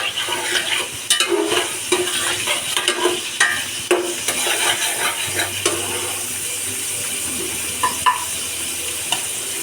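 Onions fry in a pan for spiced khichuri, a steady sizzle broken by frequent stirring scrapes and clinks of a spatula against the pan, close by with no talk.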